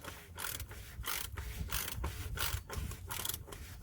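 A ratchet with a 24mm socket tightens an oil filter housing on a turbo diesel Hyundai Tucson, giving a close, continuous series of rhythmic clicking strokes with no talk.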